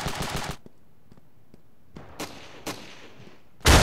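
Shotgun blasts in the video game Ravenfield: a loud burst at the start, a few faint ticks, two sharper shots around the middle and another loud blast at the end, with no talking.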